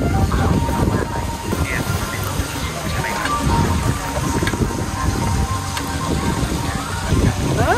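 An elephant wades into a river in Hat Yai, Thailand, carrying riders, and the water splashes and churns continuously under a steady wash of outdoor noise, with voices talking over it.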